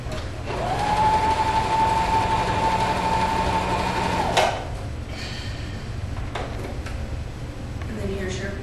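A sewing machine stitches purple quilt pieces placed right sides together, a steady close mechanical whir running for about four seconds before stopping, followed by quieter handling sounds under a constant low background hum.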